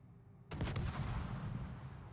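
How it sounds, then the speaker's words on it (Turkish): A naval artillery salvo fires in the World of Warships video game, a sudden loud blast at about half a second that rolls into a dense, rumbling barrage and sustained booming decay, with no talk over it. "Evet süper bir salvo vurdu."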